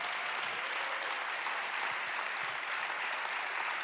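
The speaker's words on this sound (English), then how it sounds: "A big applause for our colleague." Faint, steady audience applause fills a conference hall at a BEA World 2024 event in Rome, an even wash of many hands clapping from a distance without a break.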